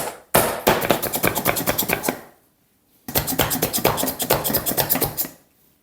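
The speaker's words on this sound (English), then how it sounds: "I've got this tool here to make onion chopping much easier." Two bursts of rapid, rhythmic chopping, a dense run of sharp clacking strikes from a hand-operated onion chopper cutting onions, separated by a short pause.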